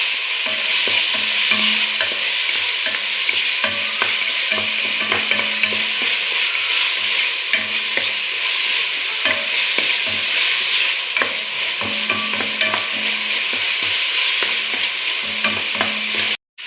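Tomato and onion fry with salt in a pan for an Udupi-style mackerel masala, a steady close sizzle broken by repeated scraping stirs and light clinks of a spoon.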